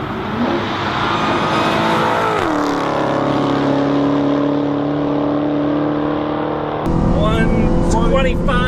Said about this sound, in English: All right, here we go. Full out. I got it to the metal.